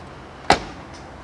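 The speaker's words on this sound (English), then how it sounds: "that's how a door is supposed to shut" A single sharp thud of a 1972 Chevrolet Impala's door shutting, close and brief, with a faint quieter knock just after.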